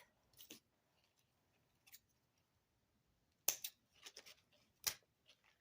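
Scissors cut through leather cord for a fossil pendant necklace in a few crisp, close snips, a light one early and a sharper cluster later, alone in a quiet room.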